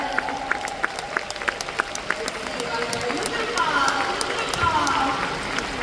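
Audience applause at a NuSkin event, building from scattered claps into fuller clapping while a speaker's voice carries over the room.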